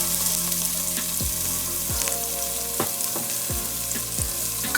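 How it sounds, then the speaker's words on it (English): Half a small onion and a teaspoon of garlic sauteing in a pan for a lasagna sauce, with a steady close sizzle broken by several sharp scrapes and knocks of a utensil stirring. "we're just going to saute this until we can smell the garlic"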